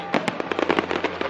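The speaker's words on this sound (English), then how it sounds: "the fireworks just started shooting off everywhere" Fireworks firing off from a burning barge on the water, a rapid irregular string of sharp, loud cracks and pops bursting close together.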